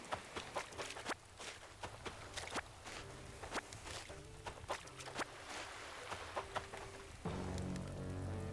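Rain falling on an island in the video game Animal Crossing: New Horizons, a soft steady patter under sharp footstep-like taps, with a heavier, fuller downpour swelling in near the end.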